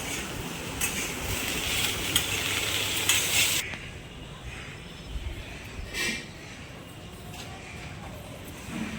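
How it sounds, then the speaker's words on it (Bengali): Snake gourd fries in a pan with salt and turmeric, giving a dense crackling sizzle with stirring scrapes that drops to a quieter, softer frying hiss partway through. "পরিমাণ মতো হলুদ দিয়ে চিচিঙেটাকে একটু ভেজে নেবো"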